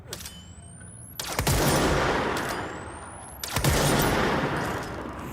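Two heavy sniper-rifle shots in the video game Control, each a sharp loud crack with a long booming tail, about two seconds apart, with a faint rising whine before each.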